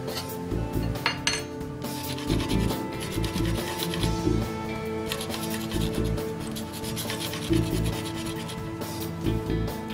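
Metal scraper rasping over rusty, peeling paint on a ship's steel, with steady continuous scraping strokes and occasional sharper metallic scrapes, close and fairly loud, no talking.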